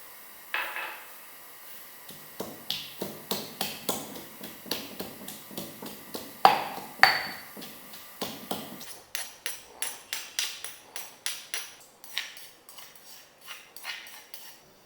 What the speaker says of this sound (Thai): นำพริกแดงจินดากระเทียมมาตำพอจะหยาบนะครั